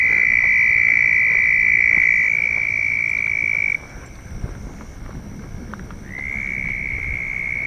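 A loud, shrill chorus of croaking frogs beside a walking path on a morning walk. It drops out abruptly partway through, leaving quieter background noise, then swells back in near the end.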